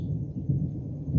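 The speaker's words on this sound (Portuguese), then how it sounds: "Eita, ela trovejando." Low, faint thunder rumbles in a backyard with fruit plants, a soft distant roll with no voices over it.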